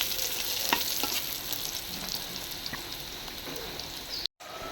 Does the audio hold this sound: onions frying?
yes